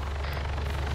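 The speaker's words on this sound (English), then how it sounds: "Oh, helicopter!" A helicopter thuds overhead with a steady, low rotor pulse and a broad engine drone, loud and continuous throughout.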